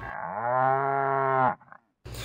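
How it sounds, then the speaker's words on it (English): A cow sound effect gives one long, loud, tonal moo lasting about a second and a half, then cuts off abruptly, followed by a short silence and a burst of other noise. "That irritating moo just played."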